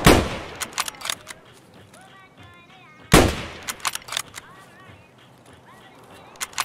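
Sharp bursts of gunfire from the shooter game Escape from Tarkov, two loud clusters of rapid shots about three seconds apart, each trailing off into scattered reports with a faint voice in the background.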